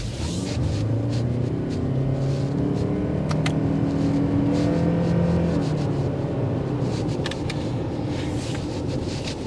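A 2024 Lexus RX 350h hybrid accelerating on a test drive, heard from inside as a steady engine drone that rises in pitch over road rumble and hum, with no voices.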